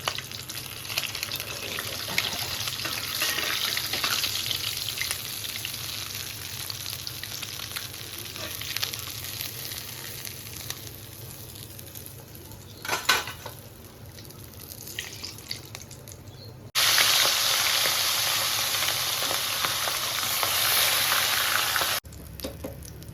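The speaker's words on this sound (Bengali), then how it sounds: "মোটা চামড়া হলেই কিন্তু তেলে ফুটবে" Continuous crackling sizzle of fish heads frying in oil, running throughout; near the end it turns louder and harsher for several seconds, with no talking.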